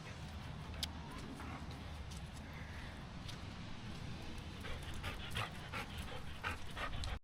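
A Labrador dog pants steadily and quickly, close by, outdoors in wet spring weather on a homestead, with a soft breezy background and no talk.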